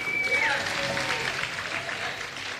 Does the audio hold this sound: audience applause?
yes